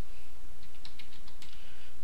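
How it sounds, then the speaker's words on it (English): Quick, close clicks of fingers typing code on a computer keyboard, a short irregular burst of keystrokes over a steady background hiss with no voices. "And in here is where we're going to type in the code."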